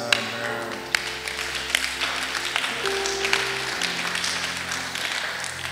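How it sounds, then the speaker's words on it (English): A church congregation clapping along continuously during worship, with sharp scattered claps over sustained music with low held tones; no talking. "Somebody clap your hands and make a joyful noise unto the Lord"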